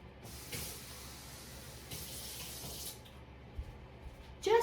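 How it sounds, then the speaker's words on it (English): Water pours from a tap into a pan holding kabocha squash in a home kitchen, a faint, intermittent running stream in a few short bursts, ending with a brief clatter. "I'm going to put a little bit of water in it"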